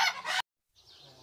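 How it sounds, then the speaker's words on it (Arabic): A crested French rooster lets out a short loud crow that breaks off abruptly, followed after a brief silence by softer, quieter clucking close by. "هذا ديك فرنسي مكدش"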